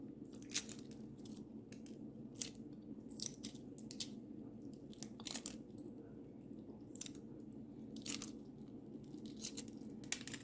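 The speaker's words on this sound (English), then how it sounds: "So I'm just going to go ahead and just peel our egg" Shell is peeled off a cooled hard-boiled egg, giving a series of small crackling, crinkly snaps in irregular bursts over a quiet room hum, close and faint, with no talking.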